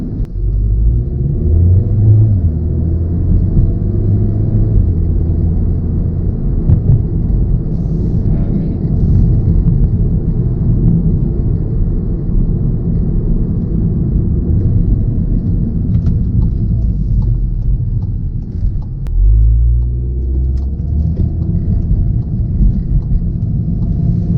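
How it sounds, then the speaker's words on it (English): The engine of a Volkswagen MK7 Golf R rumbles steadily from inside the cabin while driving, a loud, continuous low drone with road noise that swells slightly near the end. "you hear the raw engine"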